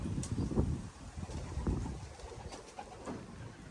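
Racing pigeons at the Capistrano Classic one-loft race coo softly and repeatedly nearby, a low throaty murmur in a quiet outdoor setting.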